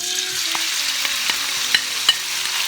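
Pork dropped into hot oil with star anise for old Beijing soybean sauce noodles gives a steady close sizzle, with a few sharp clicks of a utensil against the wok.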